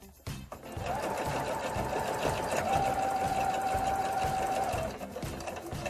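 A sewing machine stitches a fabric appliqué around a towel with a steady, fast whirring patter for about four seconds. Its pitch rises slightly at one point, and a soft mechanical hum continues after the stitching stops.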